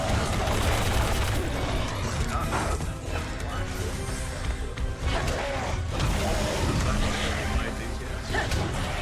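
Rapid machine pistol fire in Resident Evil 6, a dense, continuous rattle of shots mixed with mechanical clatter and crashes, loud and close, with a player talking over the action.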